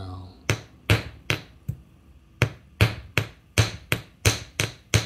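Metal hammer blows strike copper being shaped into heart earrings, about a dozen sharp, ringing taps in uneven bursts, close and clear with no talk.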